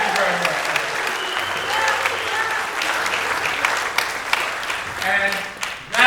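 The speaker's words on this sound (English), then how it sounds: "give me a wonderful applause for this" Audience applause at an orchestra concert, a dense, steady clapping from a large crowd filling the hall for the full stretch, with a brief swell near the end.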